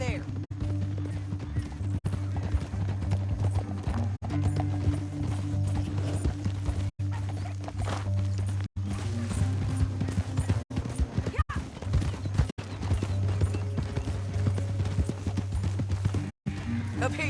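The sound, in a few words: horse hooves clip-clopping, from a video game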